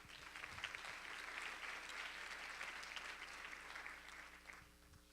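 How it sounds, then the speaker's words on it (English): An audience at a conference's opening remarks claps for the sponsors, a dense, steady round of applause from a large crowd in a hall, fading near the end. "So an applause for that, please."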